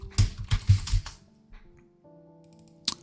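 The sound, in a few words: typing a folder name on a computer keyboard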